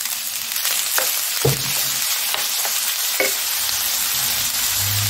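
Shrimp fried rice with soy sauce sizzles steadily in a hot pan, a loud continuous frying hiss with a few stirring scrapes and clicks, no voices.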